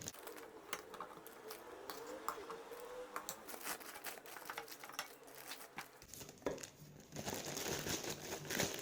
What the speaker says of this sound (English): Place each portion into a Ziploc bag.